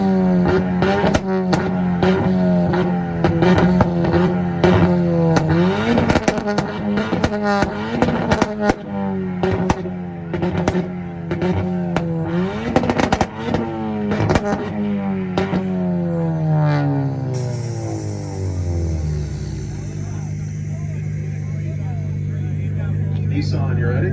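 A Ford Fiesta engine revs hard at an import rev battle in Tulsa, Oklahoma, cycling up and down in repeated rising sweeps, loud and close, before dropping away at the end as a crowd cheers and shouts over it.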